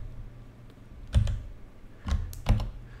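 Keyboard shortcut of Command, Shift and O pressed on a computer keyboard while working in a code editor: a few sharp key clicks, a pair near one second and another pair near two seconds, fairly close over a low steady hum.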